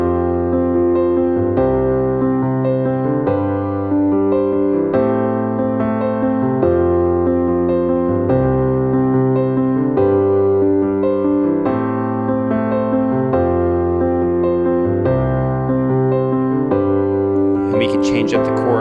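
Worship-style piano plays a repeating rhythm pattern over a 4-1-5-6 chord progression, steady sustained chords moving through the changes for about nineteen seconds, loud and close with no talking.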